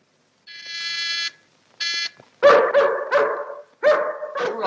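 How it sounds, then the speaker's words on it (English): A savage dog in a film gives sustained, tonal howls, then breaks into a string of loud, close, harsh barks in quick bursts. "Don't like the sound of that dog."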